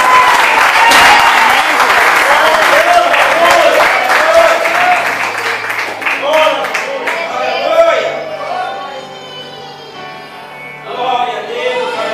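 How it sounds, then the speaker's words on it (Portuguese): Church congregation applauding during a service, a loud, dense wash of many hands clapping that rises strongly, then thins, while a voice speaks and calls out over it. "As palmas agradecem o nome do Senhor Jesus."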